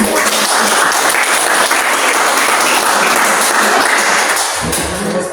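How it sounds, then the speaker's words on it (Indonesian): Schoolchildren in a classroom clap together loudly and close, a brisk, busy burst of applause that holds for several seconds before thinning and fading near the end. "Ada tepuk tangan dulu untuk kita."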